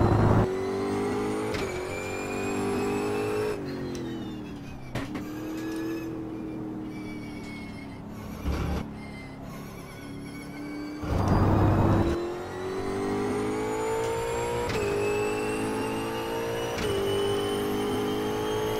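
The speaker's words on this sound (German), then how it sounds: "Das Auto klingt ganz anders" Racing car in the Automobilista sim fitted with a race differential, its engine droning and revving steadily through gear changes, with brief lifts and a louder surge near the end, close and continuous with no talk.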